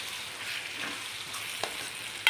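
Vermicelli upma sizzles steadily in a hot pan while being stirred, a close continuous frying hiss with a faint scrape or two of the spoon near the end.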